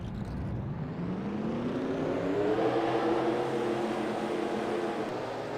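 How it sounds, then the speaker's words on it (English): Stock car engines at Daytona in a racing video game fire up and rev together, a loud continuous drone whose pitch climbs steadily and then holds high. "Drivers, start your engines!"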